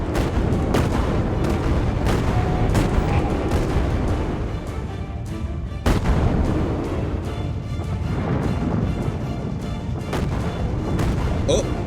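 Repeated booming artillery salvos fire in the sky-island game Lost Skies, dense and loud throughout, with sharper heavy blasts landing around two and six seconds amid continuous rumble; a voice talks over it.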